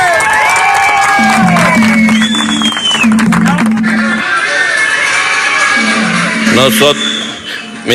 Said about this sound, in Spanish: le mandamos aquí un aplauso a toda esa gente que está en la calle